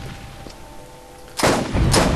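Sniper rifle fire in the Borderlands video game: after a quiet, hissy stretch, two loud, sharp broadband blasts ring out at close range, each followed by a lingering rumble as they strike an enemy turret.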